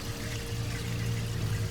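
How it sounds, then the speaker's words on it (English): Waste water from an RV holding tank drains into a sewer hookup, a steady gushing pour and trickle that holds at an even level for the whole stretch with no voices over it. "And you hear it draining."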